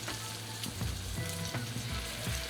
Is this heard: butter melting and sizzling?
yes